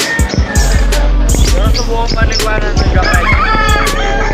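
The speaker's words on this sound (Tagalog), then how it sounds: "Birds." Birds at a pet market in Pampang, Angeles, with sharp rooster-like crows and clucks ringing out over a busy market din, close and loud, with people talking around them.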